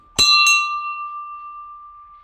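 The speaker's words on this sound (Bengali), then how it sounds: "একটু ঘন্টাও বাজিয়ে দিলাম।" A temple bell is struck twice in quick succession, loud and close, and its clear metallic ring then decays slowly into a long, fading hum.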